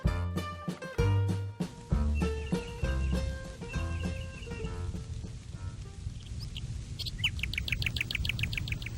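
Music plays through most of the passage on a summer afternoon outdoors, and near the end a bird chirps in a short run of quick, bright repeated notes over the fading music.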